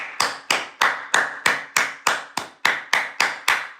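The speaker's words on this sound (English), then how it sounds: "We got to give a hand clap to that game" A single pair of hands claps slowly and steadily, about a dozen sharp, close claps spaced evenly roughly a third of a second apart, with no other sound between them.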